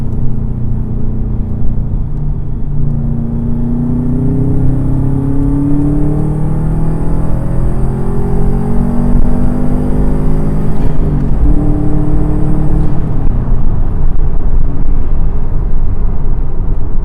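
A 2004 Subaru WRX drives along twisty roads, its engine rumbling and whirring steadily from inside the cabin, pitch rising and falling through gear changes and turns, with no talking.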